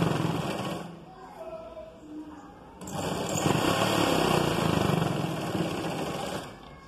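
Sewing machine stitching the side seam of a blouse, a steady motor whir running in two bursts, the longer one loud and close, with quiet pauses between.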